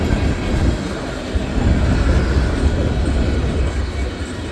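A CSX freight train hauled by an EMD SD40-2 rolls past in snow at Point of Rocks with Chessie and Conrail boxcars, a loud, close, steady rumble of wheels and cars with faint clatter and squeal.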